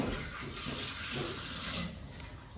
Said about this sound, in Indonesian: Nah, tangannya dicuci dulu.